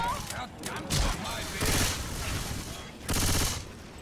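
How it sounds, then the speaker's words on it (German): Uzi submachine gun firing in the video game Left 4 Dead 2, rapid automatic bursts in several loud stretches amid other game noise, with a person talking over it. "Die Uzi hier, die hat schön 600 Schuss oder was die insgesamt hat."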